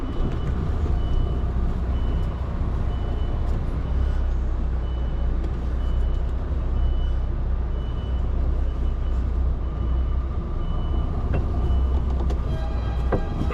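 A truck reversing while parallel parking gives a steady run of evenly spaced electronic beeps over a continuous low engine rumble, close and fairly loud throughout.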